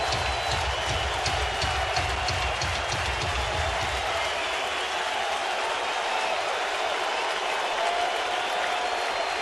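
Huge crowd of about 55,000 at Dodger Stadium, on their feet during a baseball game; a continuous, loud, wash-like roar of cheering fills the whole stretch without pause.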